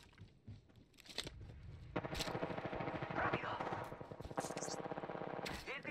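Gunfire crackles during a shooter video game as rapid automatic bursts stutter over a low rumble, with a few louder single shots mixed in. The shooting is moderately loud and continuous.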